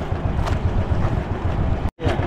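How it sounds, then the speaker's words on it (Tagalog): Strong wind at sea roars across a boat's microphone as a dense, steady rush, with a brief dropout near the end and no voices. "Lakas ng hangin eh."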